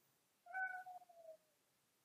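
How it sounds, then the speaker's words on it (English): A pet cat meows once in a drawn-out, falling cry lasting under a second, moderately close in an otherwise quiet room, followed by near silence. "My cat's meowing."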